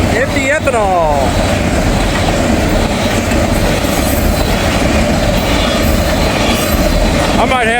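Freight cars, including empty ethanol tank cars, roll steadily past close by with a loud grinding rumble and clickety-clack over the rail joints, wheel squeal flaring at the start and again at the end.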